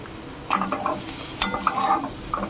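Prawns frying in a pan with a steady crackling sizzle, interrupted by clustered scraping and knocking as a utensil stirs and lifts them out, close and fairly loud with no voices.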